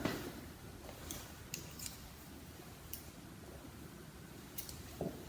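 Close scissors snip a hair fringe into blunt bangs, giving several crisp, separate metallic snips spaced irregularly over a quiet background with no talking.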